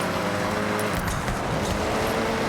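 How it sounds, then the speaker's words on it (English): A turbocharged rally car engine in Forza Horizon drones steadily and loud under power. The note rises slightly as it pulls, with no pauses. "You can hear the engine has more power."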